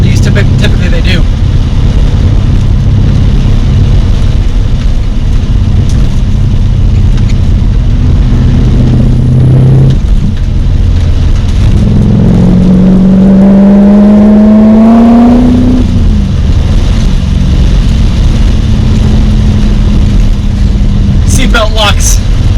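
A BMW E30 with an S62 engine drones loudly from inside the cabin, rising and falling as it revs and shifts gears, with a voice talking over it.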